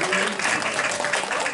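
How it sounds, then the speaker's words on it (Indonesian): A crowd claps in applause for a performer named Prabu Tiang at a live comedy show, with dense, steady hand-clapping mixed with voices. "Tepuk tangan untuk Prabu Tiang Niki"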